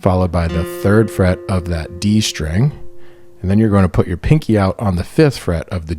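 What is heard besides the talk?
No everyday noises stand out.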